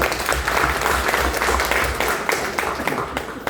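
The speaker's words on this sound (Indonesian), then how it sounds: "Tepuk tangan untuk Min 2" Audience applause at a Kemenag DKI Jakarta madrasah gathering honoring MIN 2, steady dense clapping from a crowd filling the room for several seconds, with a few sharper claps standing out near the end.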